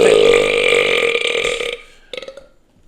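A loud, close burp, drawn out and voiced for over a second, followed by a short fainter gurgling burst before silence.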